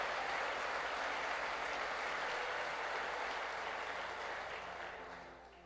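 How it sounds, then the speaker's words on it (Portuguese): Sustained applause from a church conference audience at a sermon, loud and steady throughout before gradually fading near the end. "Pode dar uma salva de palmas"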